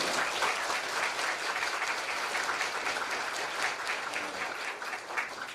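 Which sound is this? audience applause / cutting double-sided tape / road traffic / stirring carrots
audience applause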